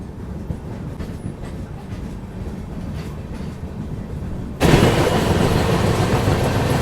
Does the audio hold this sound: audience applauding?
no